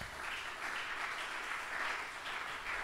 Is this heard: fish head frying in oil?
no